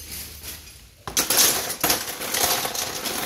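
Metal kitchen bowls, pans and pots are handled, starting with a sharp clatter after a quiet second, then continuing with close, busy metallic clanks and rattles.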